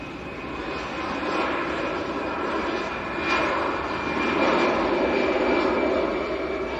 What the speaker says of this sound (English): the One World livery on the Finnair A319. Going back to Helsinki.